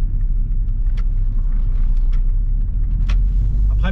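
Low, steady rumble of a 1992 Renault 21 Manager turbo diesel engine while driving, heard from inside the car with faint clicks and rattles over the drone.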